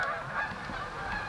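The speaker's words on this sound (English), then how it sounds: "now them geese are running around" A flock of geese honk repeatedly, overlapping nasal calls at moderate distance forming a continuous chorus.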